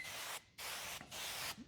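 Three quick hissing bursts from a spray bottle misting water onto window tint film, close and evenly spaced.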